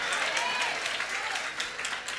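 A church congregation applauds in a dense, steady wash of clapping that holds through the whole stretch, loud and close with no talking over it.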